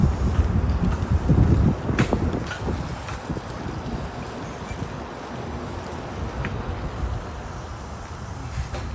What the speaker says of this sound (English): there's the water release flowing into a dam